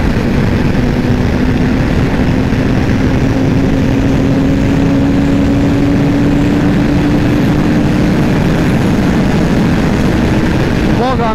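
The engine of a 1999 Kawasaki ZZR 600 motorcycle drones steadily while riding, a constant loud hum with a slowly rising tone, mixed with heavy wind rush and someone talking over it.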